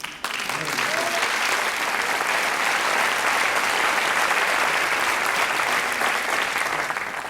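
A crowd claps loudly and continuously in a hall during a French stand-up comedy show, the dense applause rising quickly and holding steady to the end.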